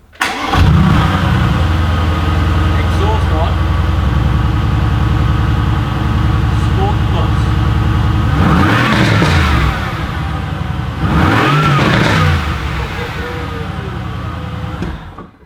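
A Mercedes AMG GT Convertible engine fires up and settles into a loud, steady idle, then two sharp revs climb and fall in quick succession before it drops back to idle.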